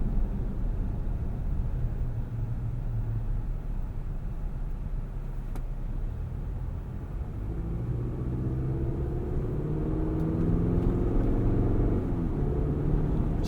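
A 2024 Chevrolet Colorado ZR2 truck on 35-inch tires cruises into town, a low, steady interior engine and road rumble that is fairly quiet, with a faint rising engine tone toward the end.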